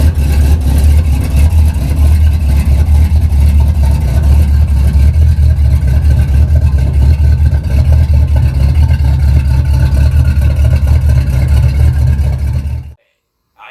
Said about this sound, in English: I have a loud car, I like to make noise,